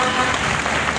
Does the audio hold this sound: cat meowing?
no